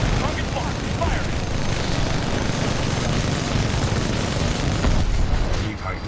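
Titan smart core weapon firing in the video game Titanfall 2, a dense continuous roar of rapid shots and booms that holds loud and steady throughout, with game voice lines mixed underneath.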